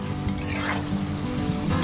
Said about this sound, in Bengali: এবার 5 মিনিট খুব ভালোভাবে এরকমভাবে ভেজে নেব এবং গ্যাসের ফ্লেম কিন্তু একদম লো করে রাখা আছে।